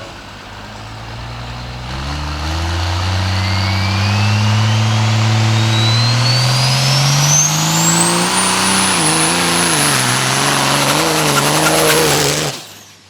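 A dirt drag racing vehicle launches and accelerates hard down a dirt track, its engine roaring close and loud with rising pitch through the gears before cutting off abruptly at the end.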